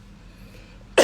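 A single sharp cough bursts out at the very end, loud and close, after about a second of quiet room tone.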